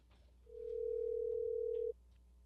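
Outgoing telephone call ringing tone: a single steady, loud, clean tone lasting about a second and a half, starting and stopping abruptly over faint background noise.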